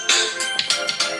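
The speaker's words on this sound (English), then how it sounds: "That was my phone." A mobile phone ringtone plays close and loud in a kitchen during a live cooking session, repeating as a bright melodic electronic tune in quick pulses over about a second, with no talking over it.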